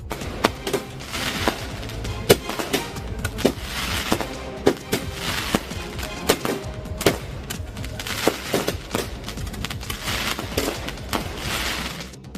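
Firework rockets go off on a busy road at a birthday celebration, a dense, continuous barrage of sharp cracks and bangs that repeat in irregular rapid bursts over a crackling, hissing background, loud and close.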